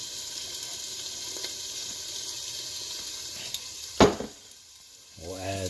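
Classico pasta sauce poured from a jar into a hot pan where food is already frying, giving a steady sizzle with a brief splash and clatter near the end, followed by a short burst of talk.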